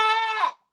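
A person imitates a baby goat, giving one loud, close, nasal bleat that wavers and then cuts off sharply.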